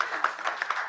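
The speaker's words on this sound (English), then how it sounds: "So a round of applause for them if you like the event." Brief patter of light hand claps from a small audience at a city council meeting, quick and uneven over under a second.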